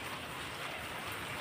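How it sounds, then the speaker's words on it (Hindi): Heavy rain pouring down in a steady, dense hiss with no breaks, loud and continuous with no talking. "बारिश बहुत तेज हो रही है"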